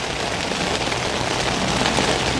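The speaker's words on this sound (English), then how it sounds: "As you can hear it, the rain is pouring down." Heavy rain pours down outdoors on a common during an overnight fishing trip, a dense, even hiss of drops hitting surfaces that holds steady and fairly loud throughout with no voices.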